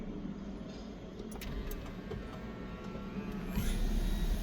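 A Nissan Kick is push-button started, a brief click followed by the engine catching and settling into a steady close idle hum, with no talking.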